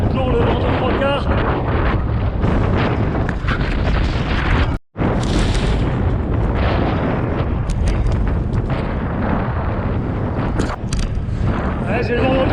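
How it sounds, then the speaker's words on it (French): Strong wind roars over the microphone on a gravel bike ride near Saint-Tropez, a loud, continuous buffeting rush that drops out for an instant before resuming. "Toujours le vent de 3 quarts."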